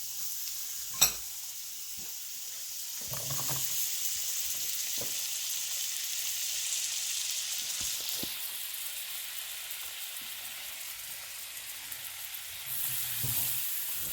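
Butter sizzling in a pan before vegetables go in, a steady soft hiss throughout with a sharp clink near the start and a few faint utensil taps.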